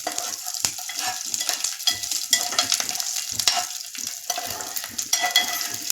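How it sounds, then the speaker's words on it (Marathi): Garlic sautéing on a low flame with mustard seeds in a pan for peanut chutney, a continuous crackling sizzle with frequent stirring scrapes throughout, close and fairly loud, no talking. "आता आपण यात लसूण टाकूया. मंद आचेवर चांगलं परतून घ्यायचंय"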